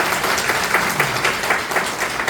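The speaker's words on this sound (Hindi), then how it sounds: "एक जोरदार तालियां चाहिए जड़ी के लिए" An audience claps together in a steady burst of applause, the many hands merging into a dense, fairly loud patter with faint pulses of rhythm running through it.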